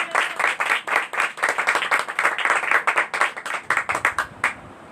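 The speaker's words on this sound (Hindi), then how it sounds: "हम लोग पाक रूह को जोरदार तालियों में वेलकम करेंगे।" A congregation claps loudly and steadily at a Saturday prayer meeting in Rehman colony, a dense run of near, rhythmic clapping that holds throughout before thinning at the very end.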